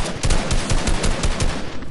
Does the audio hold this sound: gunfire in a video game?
yes